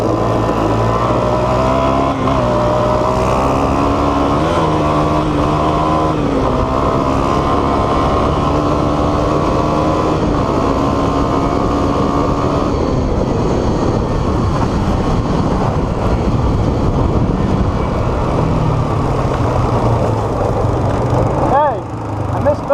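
A Yamaha Raptor 350 ATV engine runs steadily and loudly while being ridden, its droning hum rising and falling with the throttle, close by for the whole stretch.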